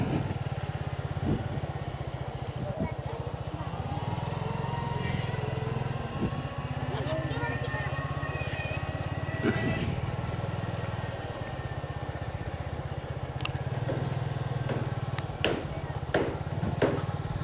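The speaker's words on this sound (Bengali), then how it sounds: "তাই ধীরে ধীরে মোটরসাইকেল চালাচ্ছি।" A motorcycle rides slowly along a village road in Khasaripara, Beanibazar, Sylhet, its engine chugging in a steady low drone that runs unbroken throughout, with scattered clicks and knocks over it.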